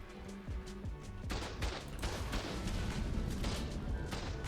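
Rockets blast at a turret in a raiding video game, dense booming explosions and crackling gunfire rolling continuously after a quieter start.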